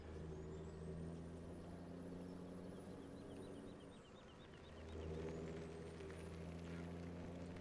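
A logging truck in Farming Simulator 17 drones along with a low, steady diesel engine, its tone dipping and rising with the throttle and a high whine over the top, close and unbroken with no talking.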